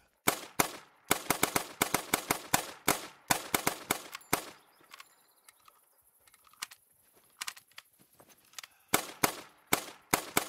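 Sharp rifle shots from a hunting video game on the Vurhonga Savanna, fired in quick close bursts, then a quieter gap with a few scattered cracks before another rapid run of shots.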